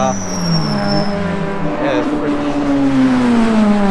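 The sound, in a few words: race cars driving around the track at Ebisu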